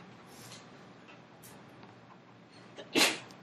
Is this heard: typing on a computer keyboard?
no